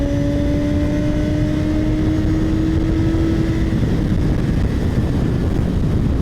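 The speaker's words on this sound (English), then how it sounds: "I'm getting a little buffeting at the top of my head" Steady, loud wind roar at highway speed on a 2018 BMW S1000 XR sport-touring motorcycle with a short windscreen, the engine tone drawing out a long steady hum beneath the constant rushing buffet.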